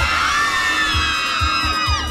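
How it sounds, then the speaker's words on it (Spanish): Crowd of women at a Valentine's Day celebration in Maipú, Chile, shouting, whooping and cheering loudly and continuously, with high overlapping screams over a thumping music beat. "¿Dónde está el grito de las mujeres de Maipú?"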